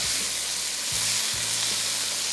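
Chicken and large mushrooms frying in a pan on high heat, a loud, dense, continuous sizzle with low scraping of stirring underneath.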